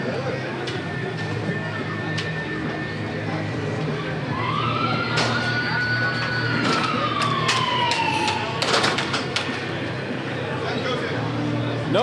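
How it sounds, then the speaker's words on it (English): At a Texas junior hockey game between the Bossier City Voodoo and the Shreveport Ragin Gators, a siren wails with a rising and falling tone through the arena to start the second period, heard over crowd noise and an announcer's voice. "that siren doesn't mean the cops are here, folks. It means our second period's about to begin."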